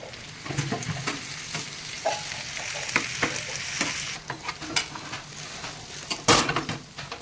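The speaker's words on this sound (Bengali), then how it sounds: "এই সবজিগুলো হাফ ভাজা হয়ে গেছে আমি এবার টমেটোগুলো দিয়ে দেবো" Vegetables and tomatoes fry in a pan for a vegetarian dish while being stirred, giving a steady sizzle broken by scraping stirs and clinks. One louder scrape comes near the end. No one speaks.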